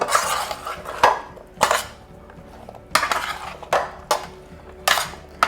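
A spoon mixing hot roasted cauliflower with marinade in a bowl: sharp metallic clinks and scrapes against the bowl in irregular bursts, about seven strokes with short pauses between, close and clear with no talking.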